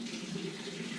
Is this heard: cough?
no